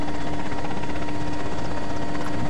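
Helicopter in Arma 2, a loud, continuous rotor and engine drone with steady rhythmic blade chop, close and filling the whole moment.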